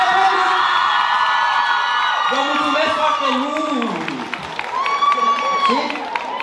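Students at a high school freshman ball in Hârlău applaud and cheer loudly and steadily, with whoops and shouts rising over dense clapping and voices mixed in throughout.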